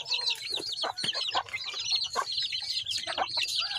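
Clucks from a rooster on a backyard farm, a run of short, close calls amid other chattering birds, no talking.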